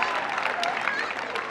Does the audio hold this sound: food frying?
no